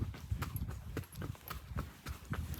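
A palomino horse's hooves clip-clop on a ranch in an uneven walking rhythm, close and moderately quiet, with no other sounds.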